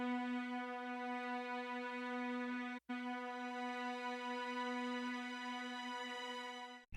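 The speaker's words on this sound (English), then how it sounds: "I have this tension string, and it's kinda playing as a riser for the bright section heading toward the drop," A tension string riser from the K-Wall plugin in FL Studio holds one sustained bowed-string tone, quiet and alone, with a brief cut near the middle before it carries on.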